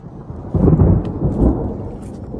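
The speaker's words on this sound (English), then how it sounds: "I'm praying that it's just thunder and it keeps going" Deep thunder rumbles through a stormy mountain forest on the Appalachian Trail in the Great Smoky Mountains, rolling in two swelling waves with a low, steady roar beneath.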